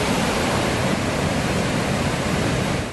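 Iguazu Falls, a waterfall system of about 275 cascades averaging 72 m in height, roaring steadily as a dense, broadband wash of falling water, loud and unbroken throughout with no voices.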